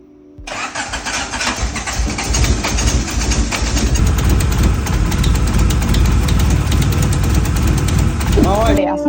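A Honda Civic EK engine cranks and fires on its first startup after head gasket work, then runs loud and rough near the microphone for several seconds before cutting off abruptly.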